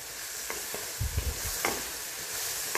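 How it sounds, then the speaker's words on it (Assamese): Food frying in a pan is stirred after the lid is lifted, with several soft scraping strokes over a steady quiet sizzle, close and alone with no voices. "এতিয়া মই লৰাই দিছোঁ।"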